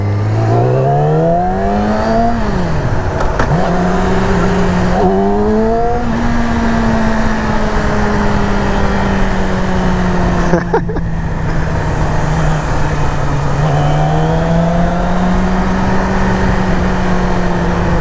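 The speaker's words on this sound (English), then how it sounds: "my all-time favorite sport bike. The Yamaha R6. What a beast, man." A Yamaha R6 sport bike engine revs hard and loud, its high-pitched note climbing and falling through repeated throttle blips and gear changes, nearby and continuous.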